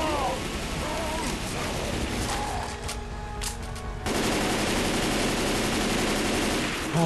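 Automatic machine gun fire in Left 4 Dead, with rapid bursts of shots and dense gunfire and explosion-like rumble across the whole stretch, loud and busy, with someone talking over part of it.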